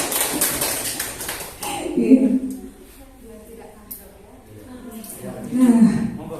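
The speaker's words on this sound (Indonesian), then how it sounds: "Tepuk tangan untuk kita semua ya." An audience of adults at a talk on discipline claps briefly. The clapping is a dense burst at the start and fades out within about two seconds. A speaker then talks over a quiet room.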